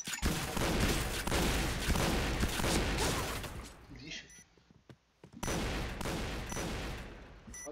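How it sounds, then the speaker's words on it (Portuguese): Rapid bursts of CrossFire video game gunfire crackle almost continuously, dropping out briefly midway before resuming, with a voice talking underneath. "você viu o tanto de tiro que ele deu?"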